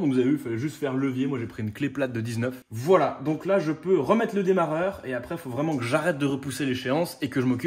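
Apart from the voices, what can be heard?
No everyday noises stand out.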